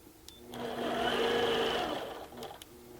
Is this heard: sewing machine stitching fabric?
yes